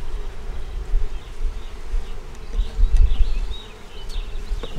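Honeybees buzz in a dense, continuous drone on an 8-frame hive during an inspection, loud and close with swelling and fading intensity and no speech.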